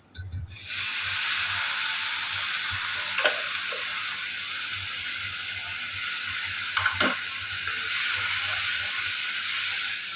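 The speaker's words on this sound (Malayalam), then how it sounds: "കടല ഇതൊന്ന് ഊറ്റിയെടുക്കുക കേട്ടോ. എന്നിട്ട് നമ്മൾ ഇതിലേക്ക് ഇടുന്നു" Drained boiled chickpeas dropped into a hot pan and sizzling, a loud steady hiss that holds throughout, with a couple of faint utensil scrapes.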